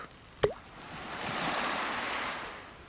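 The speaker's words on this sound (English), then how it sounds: "there are long finger-like stones I lob in without a splash" A long finger-like stone lobbed into lake water lands with a single close, soft plop, followed by a steady wash of gentle water and wind.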